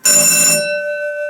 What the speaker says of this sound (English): we have an alarm bell